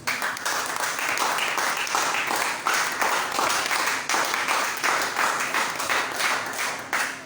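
A church congregation applauding during a sermon, sustained dense clapping from many people that continues evenly for several seconds.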